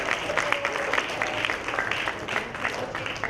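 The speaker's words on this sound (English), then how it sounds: "would you please join me in a nice warm round of applause?" A crowd at a customer experience summit gives warm applause, a dense patter of many hands with distinct individual claps standing out, steady and fairly loud throughout.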